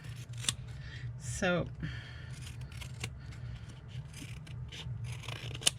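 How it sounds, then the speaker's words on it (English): Fabric scissors snip through a linen tea towel in a few close, crisp cuts, with a person speaking briefly and a low steady hum underneath. "we're not gonna get a good cut if I don't use the fabric scissors, because this is linen"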